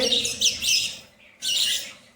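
Small budgerigars chirping and squawking in bursts, a pause, then another burst of chattering calls, close and fairly loud.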